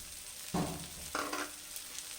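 Masala with cashews, raisins and slit green chillies is stirred in a hot pan: two scraping, sizzling strokes over a steady low fry, close up and with no voices.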